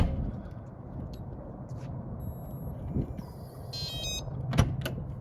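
An RV entry door swings shut with a sharp clunk near the end, preceded by a softer thud and light rattling against a steady background rumble.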